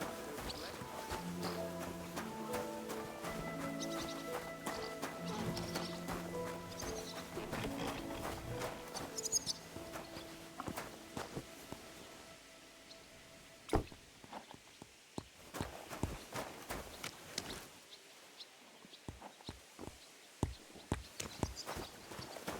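A horse clip-clops along in the medieval video game Kingdom Come Deliverance II, with steady hoofbeats and an occasional whinny. Soft music plays under it early on, and a voice speaks now and then.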